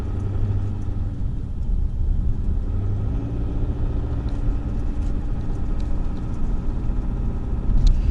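A SsangYong Rexton Sports Khan pickup's engine runs at a steady idle, a low continuous rumble heard close up with no voices over it.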